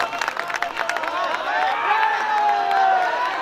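Audience at a mushaira in Parbhani applauding and cheering, a dense crowd sound with clapping and whoops that swells and holds steady, while a voice rises over the noise.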